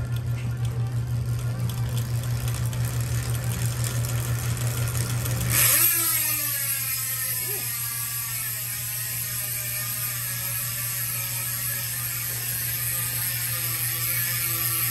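A road bike freehub, a DT Swiss 240 hub with a 54-tooth ratchet, whirs as the wheel spins, and then a fast, fine buzz of clicking starts abruptly and slowly winds down while the wheel coasts.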